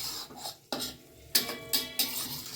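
A spoon scraping and clinking through cooked bottle gourd and poppy-seed curry in a metal pan, four or five close, distinct scrapes in an uneven rhythm.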